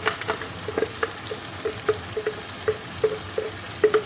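Onions and green chillies fry in a pan, a soft steady sizzle broken by regular stirring clicks and scrapes of a utensil, close and fairly quiet.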